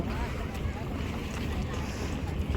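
A boat motors across the water in Dubai, a steady broad rumble mixed with heavy wind buffeting the microphone and faint lapping water, with a voice faintly present.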